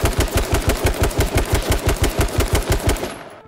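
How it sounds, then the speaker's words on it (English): Rapid automatic gunfire from a gun hip-fired in the game H1Z1, a steady loud stream of evenly spaced shots for about three seconds before cutting off. "If I were to hip fire this gun, it does have vertical recoil"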